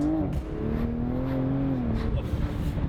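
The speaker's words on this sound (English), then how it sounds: "The exhaust is a nice level. It's loud enough to enjoy in here." Inside a BMW fitted with a 2JZ engine, the exhaust drones steadily and fairly loud under acceleration, its tone rising and falling slightly with revs as road noise rumbles underneath.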